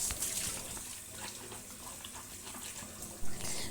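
Tap water runs steadily into a kitchen sink as raw chicken is washed piece by piece, a continuous close splashing hiss with a brief louder splash near the end.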